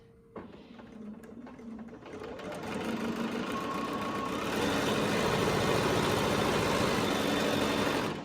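Sewing machine stitching half-square triangle quilt blocks in a chain, the motor whirring steadily and building from a slow start to a fast, continuous close-up drone.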